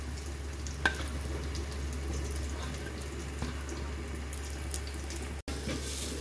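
Carrot, onion and green chilli hit melted butter in a pan, producing a soft, steady, even sizzle over a low background hum, with a faint clink or two.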